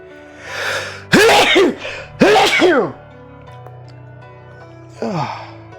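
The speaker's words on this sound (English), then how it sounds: "I had to sneeze." Several loud, close sneezes from one person, two sharp bursts in quick succession followed by a quieter one after a pause, with breathy intakes between.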